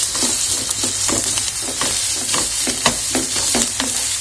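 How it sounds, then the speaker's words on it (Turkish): Half a kilo of minced meat frying with onions in oil in a pan, a steady loud sizzle with repeated stirring scrapes and clacks, no talk. "şimdi kıymamı kavurmakla işe başlayacağım"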